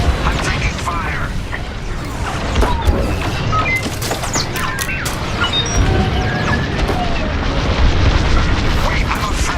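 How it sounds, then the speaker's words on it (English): Star Wars Squadrons space combat rages loudly with continuous laser fire, crashes and explosions as an Imperial fleet attacks a convoy, a dense, busy mix of blasts with game voices over it. "The Imperial fleet's firing at the convoy."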